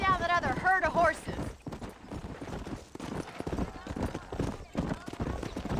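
Horses from the video game Red Dead Redemption: a whinny opens, followed by a steady clip-clop of hooves mixed under game dialogue.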